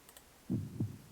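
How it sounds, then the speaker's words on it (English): Heartbeat sound effect in the otome game Seduce Me, two deep low thumps in quick succession after a brief quiet pause. "I could hear James' heartbeat."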